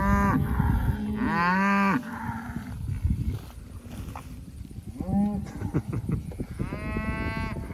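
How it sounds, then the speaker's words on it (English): Cattle in a cow/calf mob grazing sericea lespedeza at high stocking density moo repeatedly, several long, loud calls overlapping near and farther off, with steady background rustle between them. "when we get all these cattle in here"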